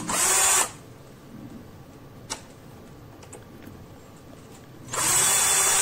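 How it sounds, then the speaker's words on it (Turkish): A 12-volt drill whirs loudly in two short bursts, one at the start and one at the end, with a quiet stretch and a faint click between them. "Bir de 12 voltluk matkap deneyelim."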